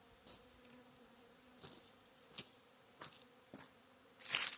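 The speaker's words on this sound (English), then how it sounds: "I have quite a few bees on the ground here because of syrup." Honeybees around a syrup bee feeder on the ground outdoors, a faint low hum with intermittent buzzing passes up close, ending in a louder burst.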